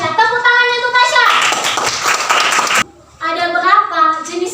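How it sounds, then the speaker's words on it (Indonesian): A class of young children claps for a classmate, with lively, close clapping mixed with children's voices and chatter, a brief pause, then more talking from the group. "Tepuk tangannya untuk Tasya."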